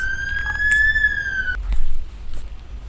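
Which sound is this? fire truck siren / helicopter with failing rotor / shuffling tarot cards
fire truck siren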